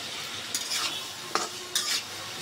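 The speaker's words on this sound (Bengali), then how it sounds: "আলুটা আমি আগে ভালো করে কষিয়ে নেই" Potatoes and spices sizzle in a pan while a spatula stirs them in three distinct scraping strokes, close and clear over the steady frying hiss.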